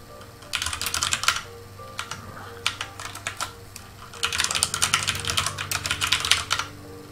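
Two quick bursts of clicking keystrokes on a computer terminal keyboard for an IBM OS/VS1 mainframe system, with a brief pause between them, close and fairly quiet.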